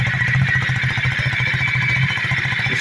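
A KTM Duke 390 motorcycle engine runs close by, its steady pulsing exhaust note holding an even rhythm throughout without speech.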